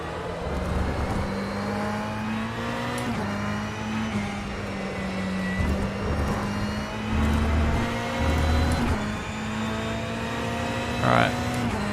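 Race car engine in the rFactor racing game at Spa, with a steady droning tone that shifts in pitch through gear changes and corners, and a few brief rev bursts, under ongoing talk.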